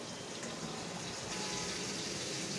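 Water is poured into a blender jar holding nutmeg and spices for a chicken roast masala, a steady close gush of liquid running without pause, no speech.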